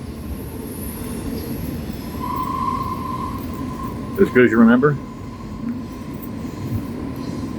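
A train rumbles past in the background along a backcountry route, a low steady drone with a brief tonal wail near the middle, while a person speaks a few words up close.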